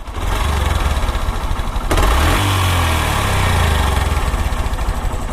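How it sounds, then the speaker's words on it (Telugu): Yamaha R15 motorcycle engine runs steadily up close, a loud buzzing throb with a metallic rattle like a loose nut shaking inside, rising briefly midway as it is revved, with no voices. "ఇంజన్ సౌండ్ వస్తుంది. ఇంజన్ సౌండ్ వినిపిస్తాగండి మీకు."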